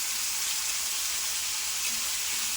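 Diced potatoes sizzle and sauté in a hot pan with chilli and salt for upvas khichdi, a dense, even frying hiss heard up close without any talking.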